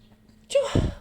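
A single sharp sneeze bursts out after a brief quiet intake of breath, close and clear.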